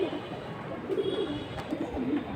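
A pigeon coos softly in a few low, rolling bursts against a steady background hum, close by and moderately quiet, with no talk.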